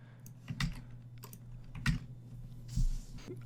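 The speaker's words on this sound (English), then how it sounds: "you just change the username that's already there to the new one. And you also type in the new password" A username and password are typed on a computer keyboard, a few scattered key taps and small clusters of clicks sounding quietly and close by.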